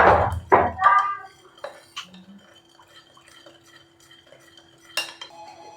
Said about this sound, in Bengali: ভালো করে চামচে দিয়ে আমি এটাকে মিশিয়ে দেবো, যাতে লাল লঙ্কার রংটা খুব সুন্দর আসে টিক্কা মশলাতে।